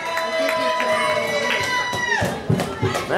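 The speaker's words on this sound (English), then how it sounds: "Let's give him a round of applause." Crowd at an independent wrestling show clapping and cheering for a world champion in the ring, busy crowd noise with shouts and claps, voices talking over it and sharper bursts near the end.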